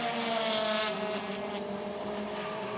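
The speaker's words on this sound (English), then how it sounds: "if we can listen to their engine notes here briefly, we can hear what they're doing and struggling with traction" Citroën touring car engines race at the 2014 WTCC round in Hungary while the cars struggle for traction, a continuous loud engine drone with shifting revs and no talk.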